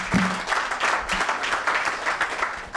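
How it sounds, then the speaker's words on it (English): An audience at a startup showcase in San Francisco claps for a presenter, a moderate, steady patter of applause with a thud near the start. "Let's give Fernando a round of applause here."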